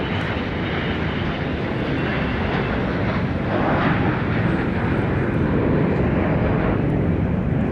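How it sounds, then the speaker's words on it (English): Bombardier Global 6000 business jet taking off at Dallas Love Field, a broad, distant engine roar that swells gradually and stays steady throughout. "There's the Bombardier Global 6000 going up."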